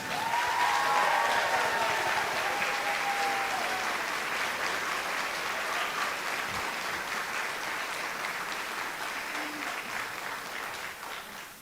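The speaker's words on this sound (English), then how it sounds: "Can we please give a big round of applause?" An audience at a high school spring band concert gives a long, sustained round of applause, with a brief whistle or cheer early on before the clapping settles into an even roar and slowly tapers off.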